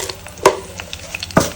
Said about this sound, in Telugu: వెల్లుల్లిపాయ అలాగే 2 ఎండుమిరపకాయలు వేసాను